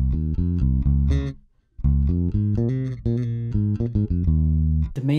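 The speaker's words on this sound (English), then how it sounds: "here is a second way of playing this type of bass line" A bass guitar plays an alternative version of a funk bass line, with clear, punchy notes in a syncopated pattern, one brief gap, and then a busier run of notes.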